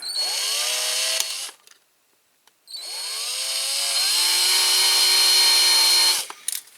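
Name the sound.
small drill drilling out a rivet on a toy car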